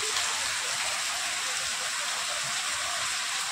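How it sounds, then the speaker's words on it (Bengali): Heavy rain pours down in a dense, unbroken roar of hissing water, loud and close throughout with no voices. "এই তো কত সুন্দর কিরম বৃষ্টি হচ্ছে, ঝেপে ঝেপে বৃষ্টি হচ্ছে"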